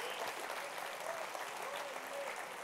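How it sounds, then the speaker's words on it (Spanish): A church congregation clapping together during a service, a dense, continuous wash of many hands at fairly steady loudness throughout, with voices faintly mixed in underneath. "Dele palmas al Señor de la gloria."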